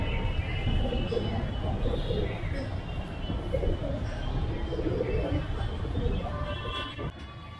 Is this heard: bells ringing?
no